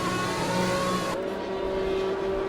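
Race cars roaring through the Monaco street circuit in a racing video game, a steady, loud engine whine with a shift in pitch partway through and no voices.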